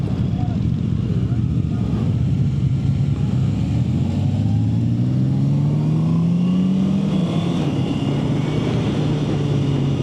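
A 2026 Honda CB650R motorcycle engine climbs in pitch through several upshifts, each gear rising then dropping, loud and close with wind noise and a voice talking in the background.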